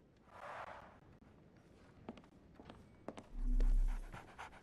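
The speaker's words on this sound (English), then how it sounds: "So, there's a dog." A dog in the Sherlock Holmes: The Awakened video game pants quickly in a short burst, close by, followed by a few light footstep-like taps and a low rumble.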